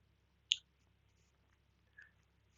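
A single sharp click in near silence, followed by a softer faint click.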